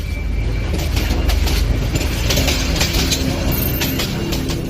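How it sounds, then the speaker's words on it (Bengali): A train rumbles steadily nearby as it departs a station at night, loud continuous rolling noise and a faint high whine; no distinct horn blast stands out. "তখনই হঠাৎ ট্রেনটি হর্ন বাজিয়ে অনেক জোরে স্টেশন থেকে চলে গেল।"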